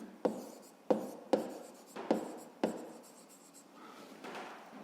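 Pen strokes from someone writing out a fifth-grade math exercise by hand, a series of five sharp, close scratching bursts in a steady rhythm, then softer continued scribbling.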